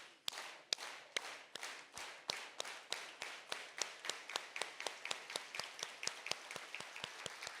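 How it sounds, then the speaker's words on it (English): An awards luncheon audience performs an organized unison hand clap, sharp synchronized claps that start slow and accelerate steadily into a rapid rhythm, fairly distant in a large room. "let's all end with an organized hand clap"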